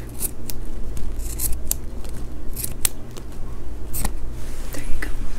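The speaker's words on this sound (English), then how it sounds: "Yeah, so I have my scissors now." Scissors snip repeatedly in close, intimate ASMR-style cutting, with sharp irregular crisp clicks over a constant soft rustling background.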